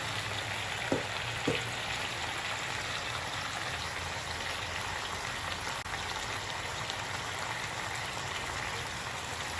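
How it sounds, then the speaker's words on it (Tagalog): Tilapia frying in oil for a Filipino dish, giving a steady, even sizzle with soft crackle throughout and two brief low knocks near the start, with no voices. "Pritong tilapia."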